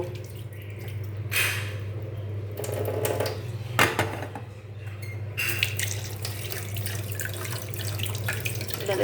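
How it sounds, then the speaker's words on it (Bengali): Rice is rinsed under a running kitchen tap, water splashing and pattering in bursts as grains are swished by hand, close and fairly quiet over a low steady hum. "এখন চালটা ধুয়ে আধা ঘন্টা জলের ভিতর ভিজিয়ে রাখবো"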